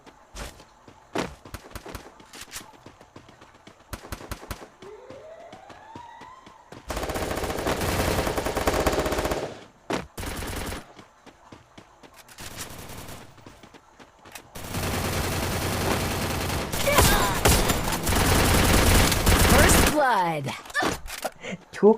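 Gunfire in the battle royale game Free Fire: sharp single shots and clusters early on, then two long sustained bursts of automatic fire, loud and close, with footsteps and effects between them.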